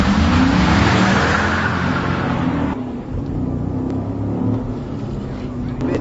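A Holden VE ute is driven hard around a cone course with no ABS, ESP or traction control, its engine roaring loudly and steadily, the pitch climbing under acceleration before easing back midway.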